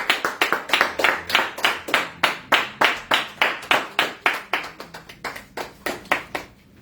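A church congregation claps in steady unison during worship, about two dozen sharp, even claps that keep a brisk rhythm and soften slightly before stopping, with no talk over them.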